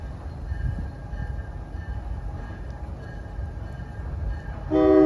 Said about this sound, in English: The train should be coming in any second